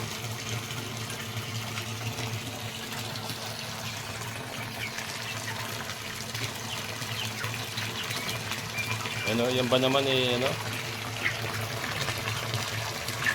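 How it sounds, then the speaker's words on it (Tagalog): Water falls steadily into a catfish tank in an aquaponics system, a constant splashing rush that swells briefly near the end while someone talks over it. "bagsak ng tubig. Yan po yung nag-produce ng dissolved oxygen."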